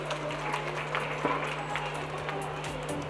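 Thin, scattered clapping comes from a small audience at a live hair-styling stage showcase, sparse and uneven over a steady low hum.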